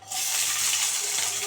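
Prawns dropped into hot mustard oil in a wok set off a continuous, fairly soft sizzle. The bright, even frying hiss carries on without any voices.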